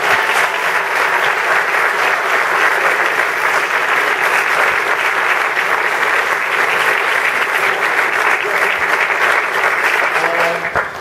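Steady, loud applause from an audience honouring the LA Kings and LA Galaxy at a White House event, continuous dense clapping lasting about eleven seconds before tapering at the end.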